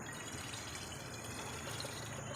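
Water is poured into a dirty waste bottle holding a little sand, giving a faint, steady trickling and filling sound with no talk.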